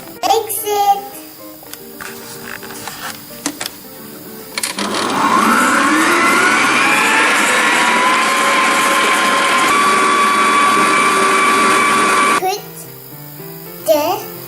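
An electric mixer whirs steadily through cupcake batter with sugar for several seconds, loud and close, with a voice chattering before and after the motor runs.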